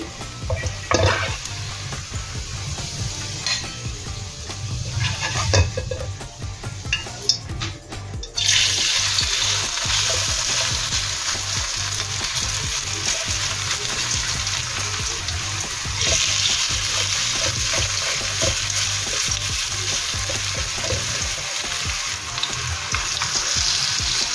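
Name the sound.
papaya okoy fritters frying in oil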